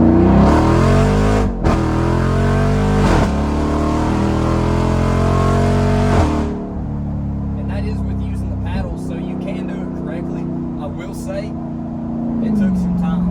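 A Jeep Wrangler Rubicon 392 with a straight-piped exhaust revving hard, loud repeated rising roars with sharp drops between them, then settling into a rumbling idle while people talk.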